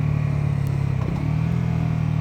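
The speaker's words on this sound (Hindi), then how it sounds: "एक बार मैं आपको एक्सेलरेशन रन करके दिखाता हूँ फिर से।" A Bajaj motorcycle, either the 350cc Dominar or the Pulsar NS 400Z, pulls away under acceleration from second gear, giving a steady loud engine drone with a brief dip in the middle before it climbs again.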